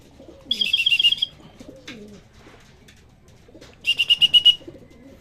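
Two bursts of soft, rapid racing pigeon cooing, each lasting under a second, separated by quieter rustling and faint background noise.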